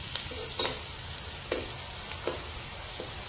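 Onions fry in a pan over a wood-fired chulha, giving a steady close sizzle broken by several sharp spatula scrapes and stirs, no talking.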